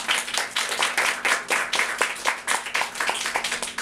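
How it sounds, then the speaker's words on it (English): A small audience at a Toastmasters club meeting applauds a speaker after his first project speech, with brisk, moderately loud clapping in uneven bursts from a modest group of people, close by and with no voices. "So could we give Dan a big round of applause?"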